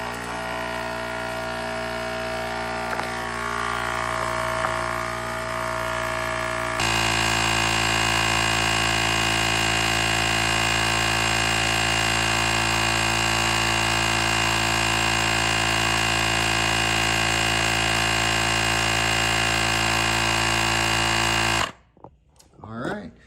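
A Fahren tire inflator pumps air into a big car tire, droning loud and steady with a constant motor hum that shifts to a heavier tone partway through and cuts off abruptly near the end, with some talk over it.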